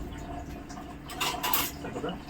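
A spoon clinks and scrapes inside a vessel as liquid is stirred during a water purifier test, with a short burst of metallic knocks in the middle over quiet room noise.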